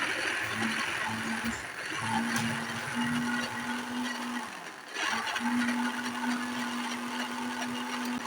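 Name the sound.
blender grinding ginger garlic chilli paste with salt, oil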